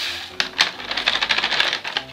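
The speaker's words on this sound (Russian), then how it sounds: "Всю лимонную кислоту, которая у меня тут есть, я высыпаю в основную стирку." Citric acid powder is poured from a packet into a washing machine's main wash compartment, giving a close, dry, rustling granular patter that starts abruptly and runs in quick gritty bursts.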